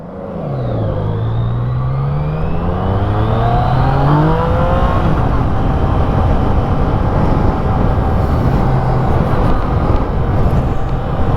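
A Yamaha MT-09 motorcycle's triple-cylinder engine revs up with rising pitch, then settles into a loud, steady drone close by.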